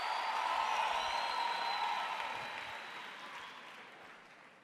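A church congregation of nearly a thousand people applauding at a leadership conference in South Africa, broad sustained clapping that gradually fades over a few seconds, with no speech.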